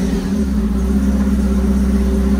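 A four-cylinder engine with a Flowmaster exhaust rumbles loudly and steadily close by, a deep low drone with a raspy exhaust tone, holding a constant pitch without clear rev swings.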